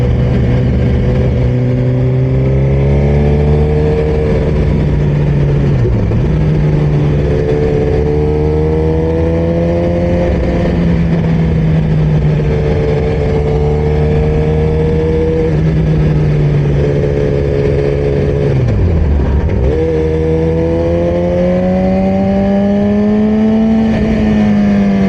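A Suzuki GSX-R 1000 sportbike rides through curves, its engine droning steadily loud with smooth rises and dips in revs as it rolls on and off the throttle, no voices over it.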